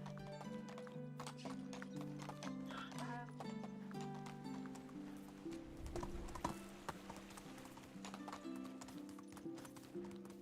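Horse hooves clip-clop at a gallop in the video game Medieval Dynasty, a steady rhythmic pounding over a low tonal music bed, with a snort or whinny in the middle and no talking.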